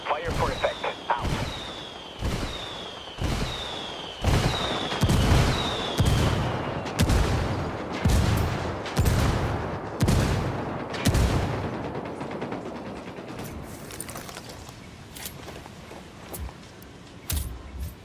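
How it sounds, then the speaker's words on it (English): An artillery strike called in as indirect fire in Ghost Recon Wildlands: a run of loud, evenly spaced booming shell impacts, one every second or so. Each blast trails a whistling tone, and the barrage thins out toward the end, with voices talking over it. "calling for indirect fire. We copy. Fire for effect."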